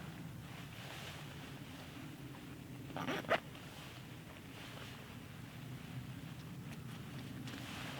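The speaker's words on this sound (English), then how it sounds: "let's try the zip lock." A zipper on a Snugpak Special Forces sleeping bag gives a brief, close rasp that stands out once over steady windy outdoor background noise.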